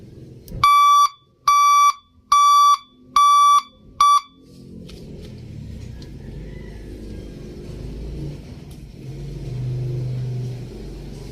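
A newly replaced vehicle back horn sounds five loud, close, even beeps in a regular rhythm, then stops, leaving a low rumbling background with faint clatter.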